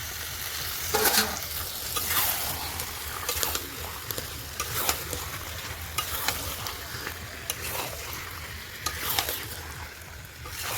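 Chicken pieces fry in cooked-down masala, sizzling and crackling close up while repeated stirring scrapes and clatters through the pan.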